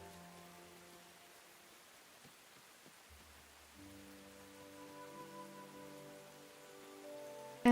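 Steady rain falls in the video game Tales of the Shire, a soft, even patter running continuously beneath sustained, gentle musical tones.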